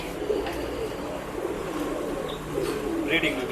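Soft, low cooing from a pigeon, a male Sabja Rekdar at a pigeon sale, sits among other birds' murmurs and a busy background hum, with occasional faint chirps mixed in.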